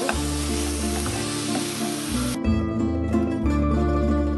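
A tablespoon of oil sizzles and fries in a hot pan, a loud continuous crackle up close. Steady tonal background sounds run underneath it.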